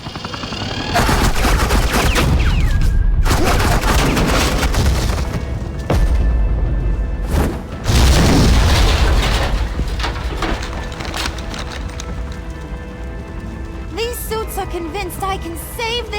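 Loud, sustained bursts of suppressing gunfire and booming impacts in the video game Batman: The Enemy Within, with dense rattling volleys for several seconds, a brief lull, then further firing that thins into scattered shots and tonal effects.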